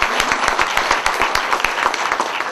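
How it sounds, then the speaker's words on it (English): An audience at a Peace Day 2006 tribute event breaks into applause, many hands clapping in a dense, steady patter that fills the room for the whole stretch with no voices rising above it. "Give her a nice round of applause."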